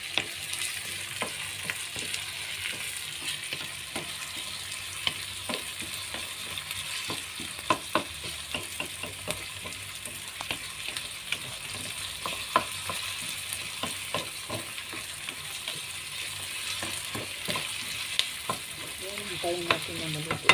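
Tomato and onion fry in a pan for a breakfast dish, a steady crackling sizzle with frequent sharp pops and occasional stirring scrapes, close and continuous with no talking.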